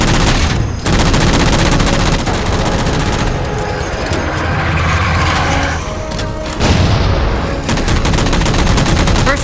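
Rapid gunfire from the Halo 4 video game while shooting down targets: dense, loud bursts of shots and mechanical clatter that run almost continuously, with only brief lulls between volleys.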